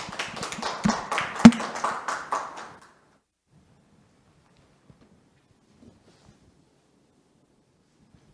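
Brief audience applause welcoming a guest lecturer at an arts education workshop, a short burst of clapping from a modest crowd that fades out after a few seconds into near silence.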